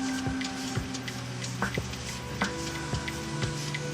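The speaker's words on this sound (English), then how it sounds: "The bottles coming out of the sterilization tunnel are filled with a quantity of previously prepared solution through a series of needles." Automatic bottle filling machine with needles, bottles arriving from a sterilization tunnel, running with steady mechanical hum and regular ticking clicks spaced about half a second apart, close by.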